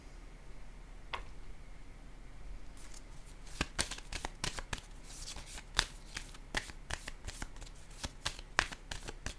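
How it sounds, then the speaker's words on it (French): Tarot-style cards handled and laid down one after another during a card reading, a run of crisp, close snaps and slides with a soft rustle, continuing steadily and alone. "Je vais déposer une carte ici."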